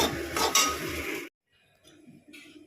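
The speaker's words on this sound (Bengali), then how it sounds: "এখানে ডিমটা ফ্রাই করছি" An egg fries in a home kitchen pan, giving a close, dense sizzle mixed with clinks and scrapes of a utensil for about a second, then cutting off to near silence with faint, sparse kitchen noises.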